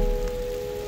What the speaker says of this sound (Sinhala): වහිනවා ඔයගලන්ට පේන ඇති.